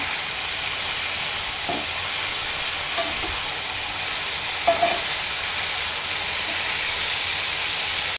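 Potatoes fry in a pan with onion, green chili and turmeric, a constant close sizzle with a few soft stirring scrapes and clicks.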